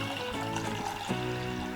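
Toor dal lentils are washed in water, with continuous close sloshing and pouring that swirls steadily, shifting briefly in tone partway through.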